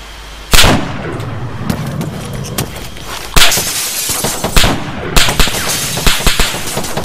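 Gunfire in ArmA 3 during an Epoch deathmatch: loud, sharp shots crack out in irregular bursts, some single and some in quick clusters, each with a ringing tail over a steady noisy background.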